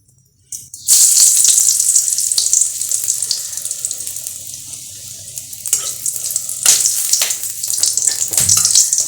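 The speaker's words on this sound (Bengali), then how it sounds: "একটু বেশি করেই তেল দিচ্ছি তার মধ্যে ফোড়ন হিসাবে শুকনো লঙ্কা রসুন দেবো" Dried red chilies and garlic hit a generous amount of hot oil for fried greens, setting off a sudden loud, close sizzle that keeps hissing steadily, with a few sharper pops.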